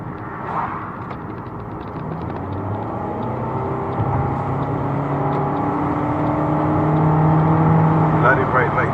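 A car drives along at a steady pace, its low engine hum and road noise building gradually, while someone talks over it.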